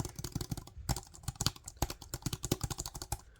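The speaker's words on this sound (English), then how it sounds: "it clicks great, just as good as a laptop keyboard as far as the buttons go" Fingers type quickly on a small portable keyboard, a dense irregular run of crisp close clicks with short pauses and no voices.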